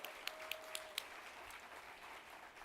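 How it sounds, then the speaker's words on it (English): Applause rises from an audience at a fundraising awards gala, a faint, distant wash of clapping with a handful of sharper individual claps near the start. "Give yourselves a big round of applause."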